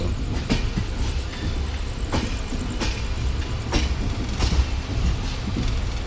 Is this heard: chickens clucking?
no